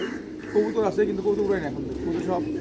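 Soft, low pigeon cooing repeats in short rolling phrases, close by, with a steady murmur of background noise throughout.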